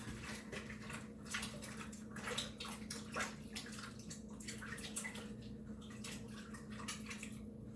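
Running water from a tap splashes steadily over hands being rinsed of flour in a home kitchen, a continuous moderate wash with small splashes and drips, no voices.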